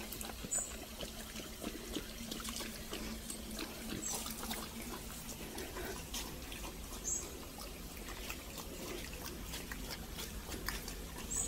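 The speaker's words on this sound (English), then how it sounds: "This is the watering hole, Harrison." Water trickles and splashes softly and continuously at a watering hole outdoors, a faint, steady liquid burble with no voices over it.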